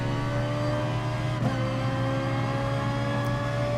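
A Ferrari 458 race car in GT Sport, racing at Suzuka, holds a steady, high engine drone at constant revs through the whole clip, with no audible talk.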